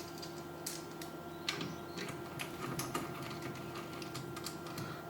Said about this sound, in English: let me put the screws back together, which holds the whole thing so that we do not damage it.